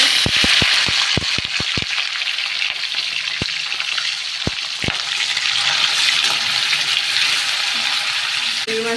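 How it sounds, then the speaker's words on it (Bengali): Prawns fry in mustard oil with cumin in a pan, giving a loud continuous sizzle broken early by a string of sharp utensil clicks and a couple of later knocks. "চিংড়ি মাছটা একটু ভেজে নেব"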